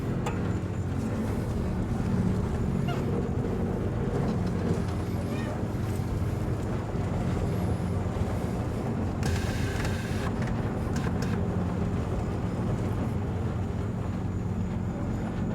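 A bagged minitruck cruises along, and its engine and road noise form a steady, moderately loud rumble. Brief higher-pitched rattles and whooshes pass near the middle.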